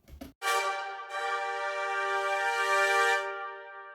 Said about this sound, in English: 4 trumpets.